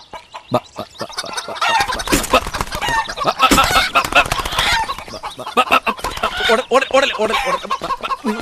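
Several chickens cluck and squawk loudly and excitedly, with flurries of agitated calls building and fading, close by.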